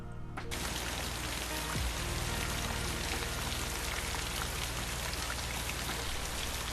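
Heavy rain pours steadily in a 1960 thriller film scene, a dense, loud and continuous hiss that starts abruptly after a brief quiet moment and holds without letup, no voices over it.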